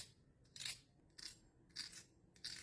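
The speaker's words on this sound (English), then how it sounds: "I'll run a fork over it," A fork scraped over crispy fried fish gives four short, dry, crackly crunches spaced roughly half a second apart, close and clear against a quiet background.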